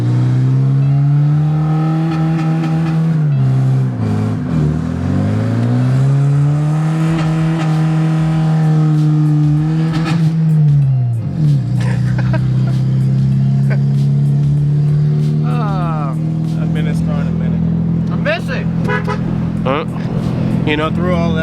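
A VW Jetta MK3 engine revs hard after repairs, its loud close drone rising and falling through several long pulls, with a voice speaking over parts of it.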